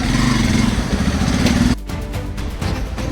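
A Yamaha FZ V3 motorcycle engine idling and running steadily after a service, loud and close, with a sharp drop in level partway through and a rougher, lower rumble afterward.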